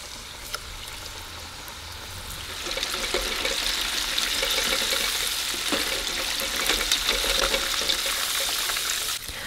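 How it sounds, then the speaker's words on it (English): Second batch of shrimp frying in hot oil, a steady hissing sizzle that swells after a couple of seconds and carries on with faint crackles, no talking. "Let's go ahead and place this into a colander and then fry up the second batch"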